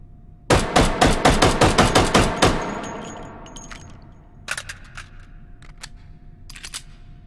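Automatic gun firing in the video game Hot Dogs, Horseshoes and Hand Grenades: a loud, steady burst of about a dozen rapid shots, followed by a few faint metallic clinks and scattered clicks.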